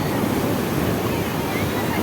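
Sea waves wash onto a beach in a steady, close roar of surf, with gusty wind buffeting the microphone throughout the short stretch.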